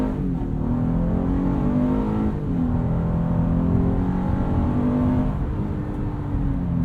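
A 2020 Acura MDX AWD with a 9-speed transmission accelerates hard from a standstill to 60 mph, a steady engine whir and roar climbing through gear shifts, heard from inside the cabin with no talking.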